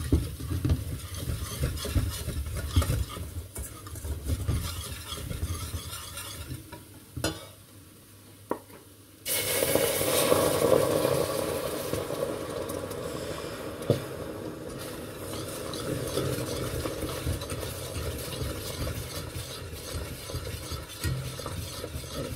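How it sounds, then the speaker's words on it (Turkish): Tomato paste and flour are fried and stirred in a pan for an iftar soup, with continuous close sizzling and scraping spatula strokes, a brief quieter pause, then louder frying. "Salçayı kavuruyorum çiğ kokusu çıksın diye"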